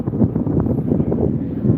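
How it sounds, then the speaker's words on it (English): Strong gusty wind blows outdoors near an old city hall, rushing and buffeting against the microphone in a continuous low roar, with no talk over it. "So windy, bunch of dust."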